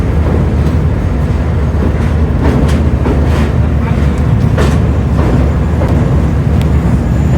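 Sairang–Guwahati Express train rolling onto a long rail bridge just after a road bridge, a loud steady rumble and rattle of wheels throughout with a person talking over it.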